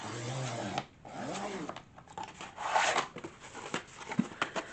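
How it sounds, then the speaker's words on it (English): A cutter scraping and dragging through a writing board from a keepsake journal kit, close rasping strokes with brief pauses between passes and no voices. "hopefully my handy dandy cutter will cut through this"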